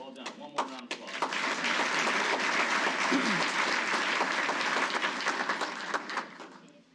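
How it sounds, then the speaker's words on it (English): Applause swells from the audience at a Defense Logistics Agency awards ceremony after a brief spoken announcement, building into a full, steady round of clapping that tapers off at the end. "One more round of applause"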